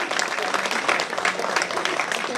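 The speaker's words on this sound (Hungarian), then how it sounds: "Szeretném drága Huzánszki Jenő bácsinak egy nagy tapsot kérni" A concert audience applauds the band at a 2013 show in Pilismarót, a dense, steady wash of many hands clapping that holds at an even loudness throughout.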